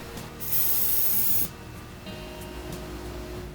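Lubricant sprays in one sharp, hissing burst onto a steel door hinge, lasting about a second, followed by quieter handling sounds of the door and can in a room.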